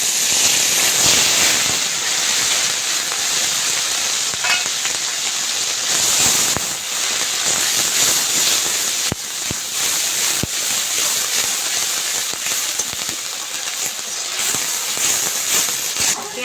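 Onion paste sizzling in hot frying oil left over from frying rui fish, a steady dense hiss and crackle running unbroken throughout at close range, with faint voice in the background.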